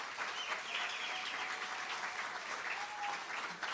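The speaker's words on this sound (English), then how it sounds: "Let us give a bigger hand of applause." Steady applause at a primary school graduation ceremony in Massacre/Canefield, a dense wash of clapping from the crowd held at an even level throughout.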